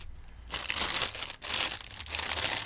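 A Gundam model kit sticker sheet for an HG MS-07B Gouf is handled up close, giving steady crinkly rustling that rises and falls in a few bursts.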